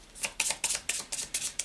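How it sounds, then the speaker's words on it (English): Cards from the Legendary deck-building board game being shuffled by hand, a quick series of seven or eight crisp riffling bursts, close and fairly quiet. "Now we're shuffling back in again."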